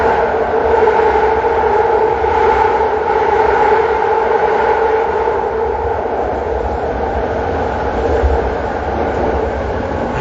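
Steady, loud rumbling of a train running above ground near Oakland, a continuous roar with a droning hum and no voices, sustained throughout.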